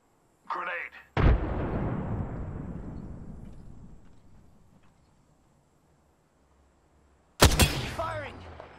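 In Apex Legends, a grenade goes off with a sudden loud blast, and a long rumble fades away over several seconds. A second sharp burst comes later, and a brief voice is heard at the start.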